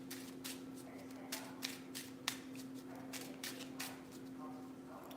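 A deck of playing cards shuffled during a tarot-style reading: soft, repeated riffling and flicking in loose bursts over a steady low hum, close and fairly quiet, with no talk.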